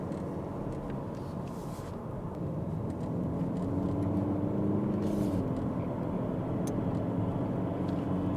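Ford Focus cruising on a motorway, with a steady loud low road and engine roar filling the cabin throughout and a slight hum shift midway, no talking.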